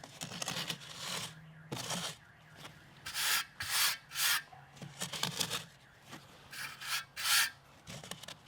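A trowel packs and tamps dry pack mortar mud for a shower pan, making a series of close, gritty scraping and thudding strokes in irregular bursts, some short, others longer, with brief pauses between.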